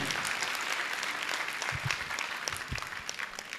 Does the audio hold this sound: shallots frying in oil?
no